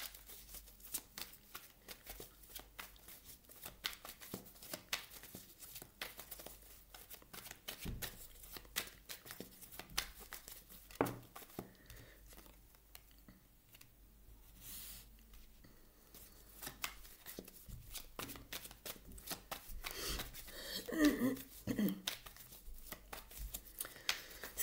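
A deck of tarot cards is shuffled by hand, giving soft, repeated papery riffles and flicks at close range, quiet and continuous, with no talking over them.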